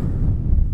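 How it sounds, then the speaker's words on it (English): Strong wind buffets the microphone outdoors in the Pennines, a steady low roaring rumble that fills the whole short moment with no other sound on top. "I'm going to go and brave the outside even though it's a bit windy, so bear with me if it gets a bit noisy."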